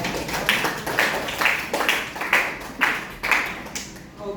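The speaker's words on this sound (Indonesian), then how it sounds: "Tepuk tangan untuk semuanya." Students in a biology classroom clap in a brief rhythmic pattern, about eight evenly spaced group claps, fairly close and loud with no talking over them.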